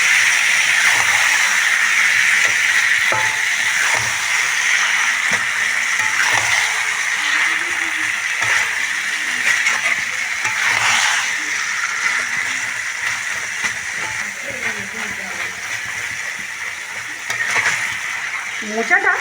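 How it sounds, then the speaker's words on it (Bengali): Banana blossom (mocha) sizzles and hisses as it is fried and stirred in a pan. The sizzle is steady and close, with scraping stirs, and a voice talks over it at times. "মোচাটা দিয়ে খুব ভালো করে আমি কষিয়ে নেব।"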